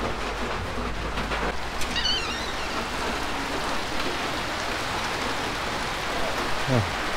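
Steady typhoon rain pours down in a dense, continuous wash of noise, with brief faint voices and a low rumble underneath.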